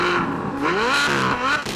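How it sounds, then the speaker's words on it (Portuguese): Chevrolet Corvette Z06 with a naturally aspirated flat-plane-crank V8 revving hard, a loud, high, sweeping wail that rises and falls twice, sounding like an Italian exotic. "graças ao seu virabrequim plano, o novo Corvette ruge como um exótico italiano também."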